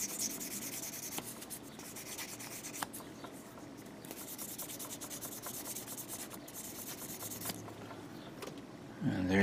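Hand sanding of a 1/144 HG MS Leo Gundam model part with 800 grit sandpaper, a close, continuous scratchy rubbing in quick back-and-forth strokes with a few brief pauses.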